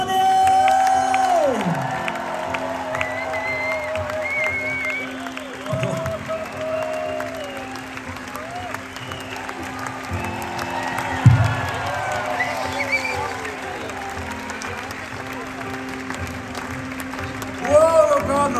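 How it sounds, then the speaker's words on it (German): Large open-air concert crowd at Moon&Stars in Locarno applauds, cheers and whoops for the bassist and vocalist, sustained roaring ovation with shouts and whistles, swelling near the end. "riesengroßen Applaus am Bass und am Gesang, Bass and Vocals"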